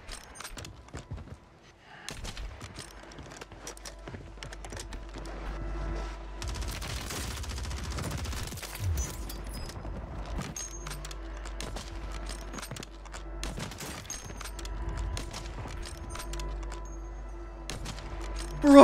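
Gunfire in Warzone 3 during a sniping match with an XRK Stalker rifle: sharp, cracking shots and scattered bursts of fire, some near and loud, others distant, over a low rumbling background.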